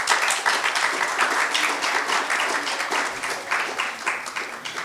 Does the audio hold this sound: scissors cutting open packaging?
no